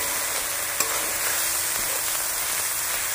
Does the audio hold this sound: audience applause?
no